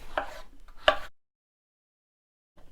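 A knife roughly chops vegetables for pumpkin soup on a board, a few quick close thuds in the first second, then silence, then a faint cut at the end.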